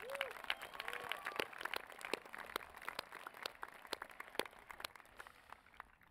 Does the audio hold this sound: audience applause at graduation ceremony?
yes